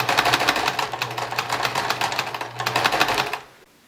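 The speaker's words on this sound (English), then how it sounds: "Begin stitching just the nose and the chin side." A sewing machine stitches the nose and chin side of a layered fabric face mask, running in a fast, steady mechanical rattle with a brief slowdown before stopping.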